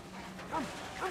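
Dog Chum in the Mad Max video game gives two short whimpering yelps, faint and close together over a quiet background.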